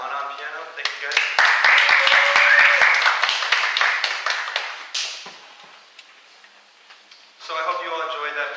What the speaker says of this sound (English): applause for Lana on piano